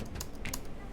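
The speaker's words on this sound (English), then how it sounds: "You can kind of see the amount of travel" Keys typed on a 17-inch EVOO gaming laptop with an RTX 2060: a few quick, soft plastic clicks close up over a quiet background hum.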